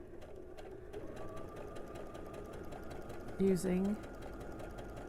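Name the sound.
sewing machine sewing on a drawn line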